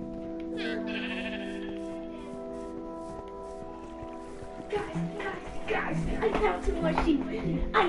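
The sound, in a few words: sheep bleating in video game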